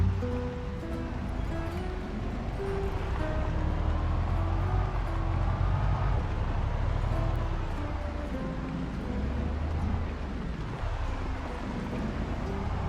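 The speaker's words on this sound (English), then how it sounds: "and the truck rumbled to life" Low, steady rumble of a truck engine idling and running in the zombie survival game Project Zomboid, continuous and fairly quiet, with faint game ambience and no speech.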